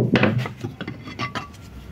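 A rubber mallet taps gearbox parts while a Fiat Fiorino City transmission is taken apart. Several dull knocks in an irregular rhythm are mixed with light metallic clinks, close up.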